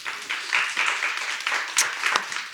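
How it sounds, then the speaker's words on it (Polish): An audience at a cultural policy forum in Warsaw applauds, a moderate, fairly distant patter of many hands clapping in uneven bursts throughout. "Brawa."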